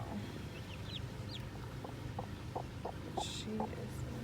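A mother hen clucks softly in short, spaced calls while a newly orphaned chick peeps now and then, both faint and close over a low background hum.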